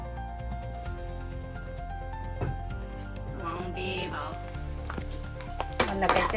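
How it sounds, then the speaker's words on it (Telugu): Egg fried rice frying in oil in a pan, with a steady loud sizzle, occasional utensil clinks and scraping stirs, and voices talking in the background. "వాళ్ళకైతే ఎగ్ ఫ్రైడ్ రైస్ చేస్తున్నా."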